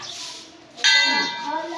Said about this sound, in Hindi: देखो घंटी लगा रहा है कैसे करके, दोनों हाथ से मार रहा है।